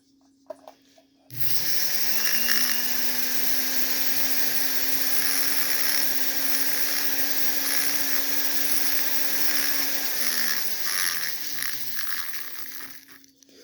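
A small ball burr on a motor running at high speed grinds a Husqvarna 390xp chainsaw piston, giving a steady, close, high-pitched whine that starts abruptly, holds for about nine seconds, then winds down with no talk.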